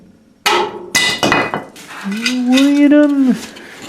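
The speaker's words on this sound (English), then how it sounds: "I'm just going to push the bolt from the inside" Bolt pushed through a shock absorber mount from the inside on a Triumph GT6 restomod build, giving two sharp metallic clanks followed by a long, rising-and-falling metal squeal, close and fairly loud.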